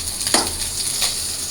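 Fried fish sizzling in oil in a pan, a soft steady hiss of hot oil with two brief louder crackles or scrapes, close and quiet, with no talking.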